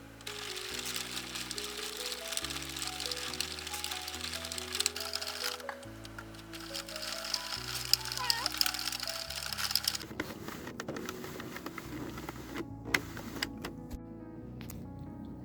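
A Sentro knitting machine cranked round and round, its plastic mechanism making a steady clicking, whirring rattle with stepped tonal changes, then brisker clacking and scraping toward the end.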